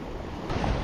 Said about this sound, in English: Just gotta watch that water coming behind me on that gully.